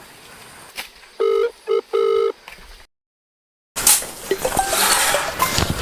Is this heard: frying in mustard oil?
no